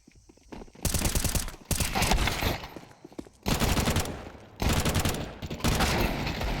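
Pistol gunfire in a Counter-Strike 2 match, fnatic against GamerLegion at BLAST Open London: repeated bursts of rapid shots in several loud clusters separated by brief lulls, with no talking.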